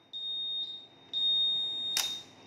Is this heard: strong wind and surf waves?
no